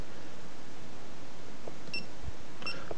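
A GoPro Hero action camera lets out two short electronic beeps close by, a second apart, over steady background hiss with no speech.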